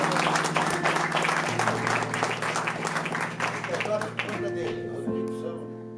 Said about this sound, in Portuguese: Então salva de palmas pra ele aqui pra nós.